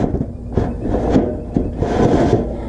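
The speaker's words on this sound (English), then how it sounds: "So now we're going to slide it in. We're hitting a nail." An attic exhaust fan being slid into a siliconed roof opening, scraping wood and knocking against a nail, giving close, continuous rubbing and grinding with a few louder bumps.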